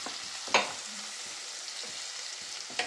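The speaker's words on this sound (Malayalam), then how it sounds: "എന്നിട്ട് നല്ലോണം ഒന്ന് എണ്ണയിൽ ചൂടാക്കി എടുക്കുക." Dates sizzling in hot oil in a pan for a beetroot pickle, a soft steady fry with a couple of sharp crackles and stirring clinks, close and fairly quiet.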